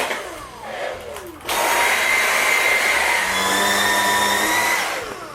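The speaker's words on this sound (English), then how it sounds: "That's what it sounds like when it's vacuuming a mattress, by the way." A Dyson V8 Fluffy cordless vacuum cleaner runs over a mattress, a quieter whir first, then a loud steady high-pitched suction roar that holds close and constant before easing off at the end.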